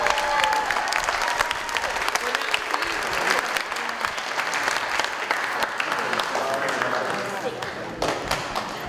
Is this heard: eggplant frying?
no